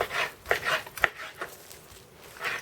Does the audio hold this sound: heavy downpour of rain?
no